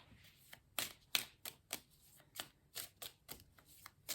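Oracle cards are shuffled and drawn by hand, a quiet series of crisp flicks and slaps in an uneven rhythm, faint and close with no talking.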